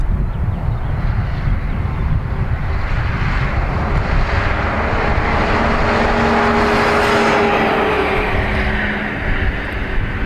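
An American Airlines Boeing Dreamliner at Dublin Airport sends out a loud, steady jet roar that holds for the whole stretch, with a faint rising whine building near the end.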